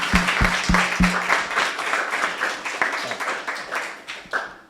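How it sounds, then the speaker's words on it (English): A meetup audience applauds after a talk, with a burst of distinct claps at first that fill into a steady, fairly loud round of clapping before it tapers off. "You can clap."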